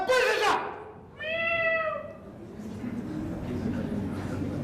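A cat meows once in a drawn-out, rising-and-falling call just after a short burst of a person talking, with quiet room noise continuing afterward.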